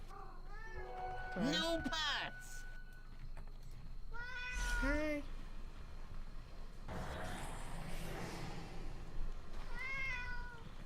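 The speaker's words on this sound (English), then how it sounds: "Sorry for the cat sounds." A cat meows several times, with plaintive, rising and falling cries spread across the stretch, while someone talks quietly over a gaming commentary background.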